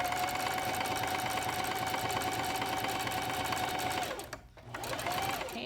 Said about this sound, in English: you sew your pocket all the way on, all the way to the top